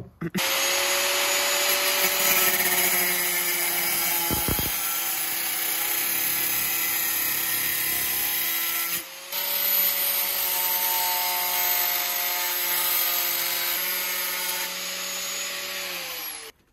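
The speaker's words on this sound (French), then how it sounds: "je vais juste lui mettre un coup de disqueuse" An angle grinder cuts car sheet metal on a BMW, a loud continuous whine with high harmonic tones, briefly dropping around the middle before resuming steadily to the end.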